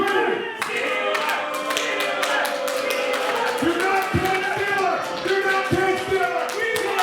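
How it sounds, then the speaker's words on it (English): A pro wrestling crowd chants in unison with scattered clapping and thumps, a loud, continuous rhythmic roar filling a large space. "you can all stand up, clap, and chant the name Papadon"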